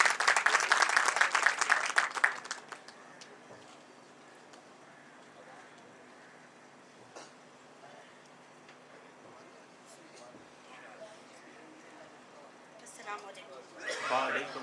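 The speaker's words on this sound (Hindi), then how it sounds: "आप सबकी भरपूर तालियों में" Enthusiastic audience applause greets a poet at a mushaira, a dense burst of clapping that fades within a few seconds into murmuring hall ambience, with a voice speaking at the end.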